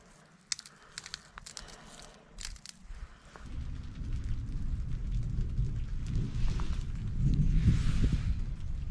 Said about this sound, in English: Big thunderstorm, really loud thunder and lightning